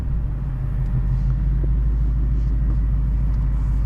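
A deep, loud exhaust rumble from an idling modified 2018 Ford Mustang GT V8 with exhaust valves fully open, steady and close with a throaty low drone throughout.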